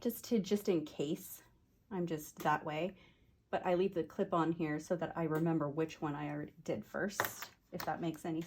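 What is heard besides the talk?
No distinct noise like a dog, phone or traffic.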